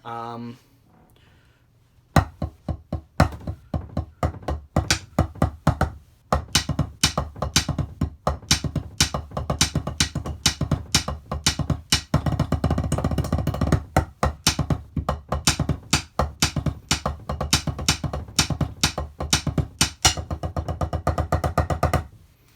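Crisp marching tenor drum strokes rattle off in quick rhythmic patterns after a brief pause, steady and loud, running for eight bars with occasional short gaps.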